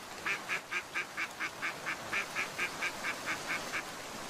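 Ducks by a river quack in a quick, even series of about fifteen calls, moderately faint against a soft background hiss.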